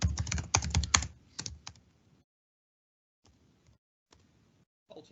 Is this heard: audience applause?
no